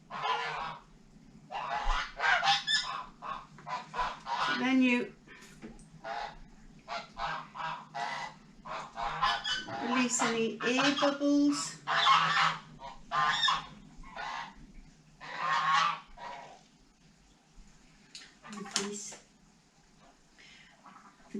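Geese honk repeatedly at a homestead where tomatoes are being canned, loud and close, with calls scattered throughout while someone talks over them.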